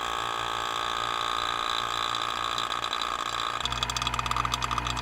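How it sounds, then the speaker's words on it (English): A vacuum pump pulls vacuum on a 12 volt air conditioner in an off-grid cabin, a steady close mechanical hum with layered tonal whine, turning rougher and more pulsing partway through. "Here it's pulling vacuum."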